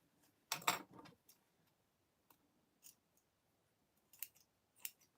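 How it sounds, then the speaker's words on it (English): Several crisp snips of dull scissors cutting fabric lining, a quick burst near the start then scattered single cuts, close and quiet with no talking. "I need to sharpen these scissors."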